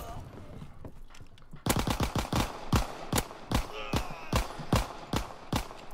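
A Thompson submachine gun fires in a video game, cracking out loud, sharp shots in a steady rhythm after a quieter opening, each report distinct and close.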